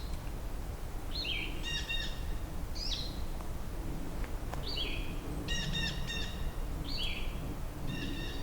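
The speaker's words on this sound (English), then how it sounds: "Blue jay." Blue jay calling in a forest along a beaver meadow loop, with harsh, repeated calls in short clusters every second or so, clear but not close, over steady outdoor background noise.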